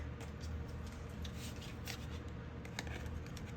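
Tarot cards being shuffled: a steady, soft riffling and rustling runs through, with light crisp flicks scattered on top, close and quiet with no voices.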